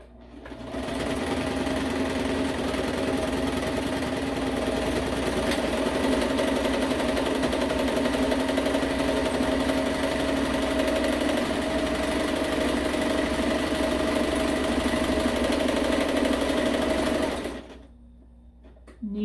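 A sewing machine runs continuously while stitching a blue comforter, a loud, steady mechanical whir held at an even pace for most of the stretch before stopping abruptly near the end.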